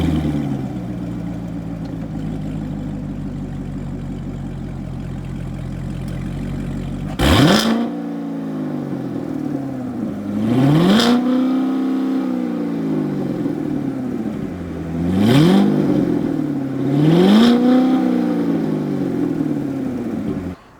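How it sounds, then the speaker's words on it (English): A 2017 Chevrolet Corvette Grand Sport C7 with a Corsa exhaust idles with a deep rumble, then gets three sharp, loud throttle blips that surge and fall back, close up and with no talking. "Snap, crackle, and pop, and I can tell you right now, it's a lovely sound to hear when you're driving a C7 Corvette for sure."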